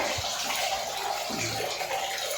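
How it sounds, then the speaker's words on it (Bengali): Water running in a bathroom, left flowing: a steady, close hiss of pouring water that continues unbroken with no talking. "এই যে বাথরুমের জল পড়ে যাচ্ছে, তো পড়েই যাচ্ছে, ভেসে যাচ্ছে।"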